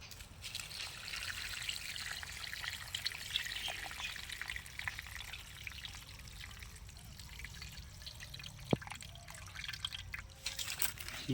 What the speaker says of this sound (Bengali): আমি জলটা একটু ফেলে নিয়ে দেখি